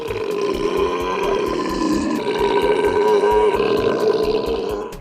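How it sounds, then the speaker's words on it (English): A long, loud, deep belch from the film Revenge of the Nerds rumbles on for several seconds as one continuous, gravelly eructation with shifting pitch. "the belch sound effect was actually dubbed in"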